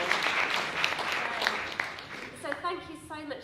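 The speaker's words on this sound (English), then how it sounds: "A round of applause for our panel" Audience applause for a business panel, steady at first and fading as a voice starts speaking over the last second.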